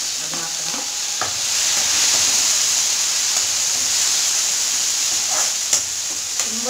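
Two sour tomatoes hit hot oil in a frying pan for a brinjal curry, setting off a steady broad sizzle and hiss with occasional stirring clinks and scrapes, close and continuous without talk.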